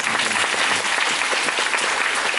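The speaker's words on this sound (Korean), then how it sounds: "다시 한번 큰 박수 부탁드립니다" Theatre audience applauding at the final curtain call of the closing performance of Bare the Musical in 2015, a dense, steady wash of clapping that fills the whole stretch without a break.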